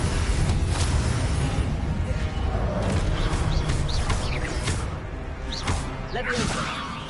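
Spell effects from the Hogwarts Legacy video game, with a fire spell cast amid continuous dense whooshing, crackling and booming blasts, loud throughout, while a player's voice calls out over the game audio.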